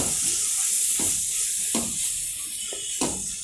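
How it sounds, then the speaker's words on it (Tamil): Green peas sautéing in a pan sizzle and hiss steadily, close and loud, broken by a few soft stirring scrapes. "இது நல்லா வதக்குங்க."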